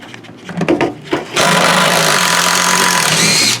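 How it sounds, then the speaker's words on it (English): A few knocks and taps come first, then an impact wrench whirs loudly and continuously on a bolt of a 1976 Triumph TR6 through a hammered-on 11 mm socket, close by. "let's try that impact again, Les."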